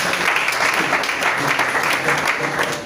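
A church congregation applauds God in a steady, dense wash of clapping. It is loud and close and holds for about three seconds before tapering slightly at the end.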